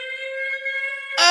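A steady electronic alarm siren sounds alone for about a second, a loud sustained wailing tone that ends in a sudden burst of noise.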